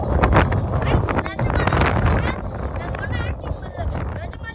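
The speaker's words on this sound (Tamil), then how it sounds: "செம்ம காற்று அடிக்குது ஃப்ரெண்ட்ஸ்." Strong gusting wind on a hilltop under dark clouds buffets the microphone with a heavy, continuous roar, while people talk over it.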